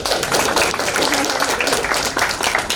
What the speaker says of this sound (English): please join me to give them a round of applause